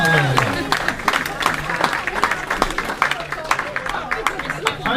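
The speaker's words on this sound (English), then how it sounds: "No, a big round of applause." An audience claps as a round of applause begins at a live public meeting, with sharp scattered claps building briefly while voices talk over it.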